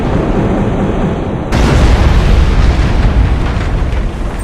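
Warship weapon batteries in the space battle game Battlefleet Gothic Armada unleash heavy, booming explosions. A sharp burst at about 1.5 seconds opens a dense, continuous roar of detonations.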